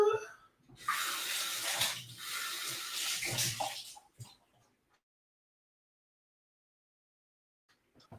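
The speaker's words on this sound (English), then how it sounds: "Just going to rinse my jig here" A measuring jigger rinsed under running tap water, a close, loud splashing stream lasting about four seconds before cutting off into silence.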